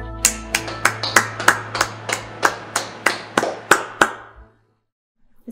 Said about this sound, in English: Let's give a clap offering to our God.